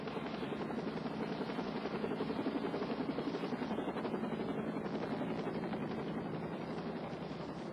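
Medical helicopter flying a trauma patient from an accident scene: a steady, dense rotor thrum with fast rhythmic chopping, constant and fairly distant throughout, with no talking.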